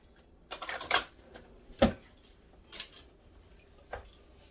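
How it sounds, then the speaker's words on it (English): A spoon stirring bean soup in an Instant Pot, with a few separate metallic clinks and scrapes against the pot spaced a second or so apart, close and fairly faint; no talking. "I'm going to stir it up."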